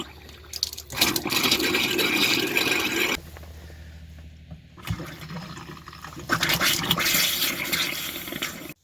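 Motorhome water pump running in bursts as air is bled from the taps, with water gushing and spluttering loudly, stopping for a quieter stretch in the middle, then surging again.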